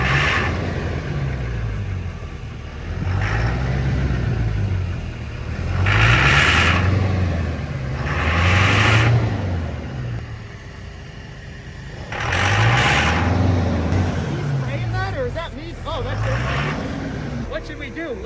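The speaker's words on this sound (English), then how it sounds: "this is actually Trevor with the ether making it idle like this" A heavy Duramax diesel truck engine, run on ether, idles roughly and unevenly, its low rumble surging and dipping in slow repeated pulses, with voices talking over it.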